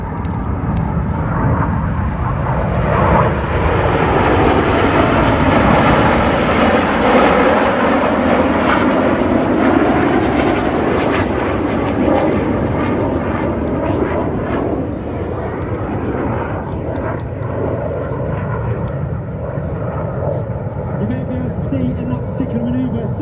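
Red Arrows display jets at an airshow roar past in a long, loud sweeping pass that swells and fades over about twenty seconds, with a commentator talking over the engine noise.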